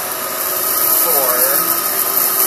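A Kenmore 600 series bagless vacuum cleaner runs with a steady, loud whirring drone, spinning sand in its bin, while a person talks over it.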